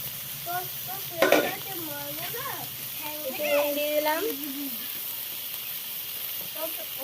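Vegetables and tomato frying and being stirred in a pan, steady sizzle and scraping under a voice and a voice talking nearby.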